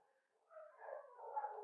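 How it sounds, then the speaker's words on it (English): Dogs barking and whimpering somewhere near a disc golf course, faint and distant, a short burst of yips and whines that swells and holds near the end. "you can hear the dogs."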